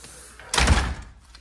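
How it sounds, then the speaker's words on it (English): The side door of a house opens with a single short thud and rattle, loud and close, with quiet room tone before and after. "I'm gonna take you inside the side door"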